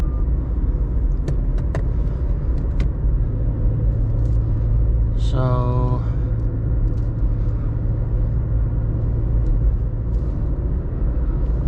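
Steady, close engine drone and road rumble from a VW Up 1.0 60hp car while driving on the highway, continuous throughout with a brief voice speaking over it midway.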